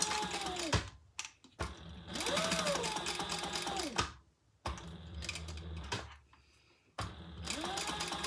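A sewing machine stitches close to the seam of a key fob wallet in three or four close bursts of rapid whirring, each winding up and then cutting off, with brief gaps between runs.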